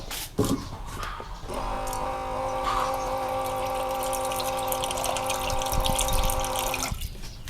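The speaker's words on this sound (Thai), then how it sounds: "ใส่น้ำแล้วก็ใส่น้ำนิดนึงนะครับ" Water runs steadily from a tap into a metal pot for several seconds, a continuous rushing stream that cuts off near the end.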